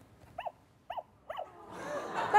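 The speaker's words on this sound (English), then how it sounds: "I'm going to turn it off now because it's going to just bark all the rest of the day" A battery-powered toy dog gives three short, evenly spaced yaps, fairly close and distinct, before a rising wash of rustling and handling noise takes over.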